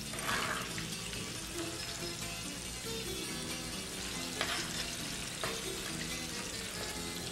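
Flour stirred a little at a time into a mixture in a pan: steady scraping and stirring with a continuous sizzling, frying-like hiss, plus a couple of sharper taps of the utensil against the pan.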